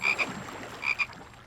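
A toad croaks in two paired bursts, clear and fairly close against a quiet background, with no voices.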